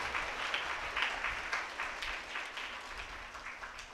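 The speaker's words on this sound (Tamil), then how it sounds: "அவருக்கு நாம் கைத்தட்டி நம்முடைய வாழ்த்துக்களை நன்றியும் தெரிவிப்போம்" A church congregation claps hands during a feast-day festival Mass, a dense, steady wash of applause from many people filling the space with no talk over it.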